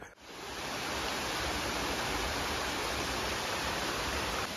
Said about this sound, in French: Cascade au milieu des montagnes, enfin, au milieu du Wadi.